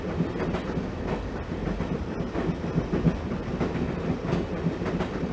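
Train from the 1996 Windows game Broken Sword, a steady rumbling rail ride with clickety-clack wheel rhythm running continuously at moderate loudness.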